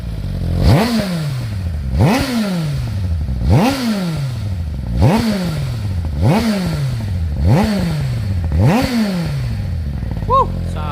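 A 2023 Suzuki GSX-R 1000R supersport motorcycle revving repeatedly at close range, with about eight sharp throttle blips rising and falling in a steady rhythm, the loud exhaust bark dominating.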